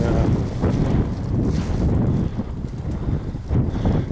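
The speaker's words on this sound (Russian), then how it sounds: "Да, ветер усилился сильный." Strong wind buffets the microphone outdoors near a dovecote, a steady loud rumbling roar with gusting surges throughout and no voices.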